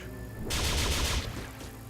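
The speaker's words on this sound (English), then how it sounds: "This grenade should deal a lot of damage." A grenade blows up in the turn-based strategy game Xenonauts X-Division, a loud broadband blast that lasts about three quarters of a second over a low rumble and then tails off, with no talk.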